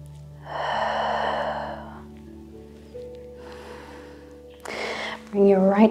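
A person lies on their belly on a yoga mat and breathes slowly, with two or three soft, drawn-out breaths heard close, the last one sharper, over faint background tones.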